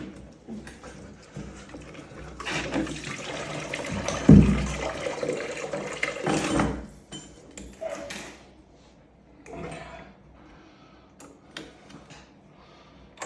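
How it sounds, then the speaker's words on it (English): Water drains out of a heating system during a full bathroom renovation, making a steady rushing gush for a few seconds, then trailing off into intermittent trickles and small knocks at close range with no talk. "That's all the water that's come out of it."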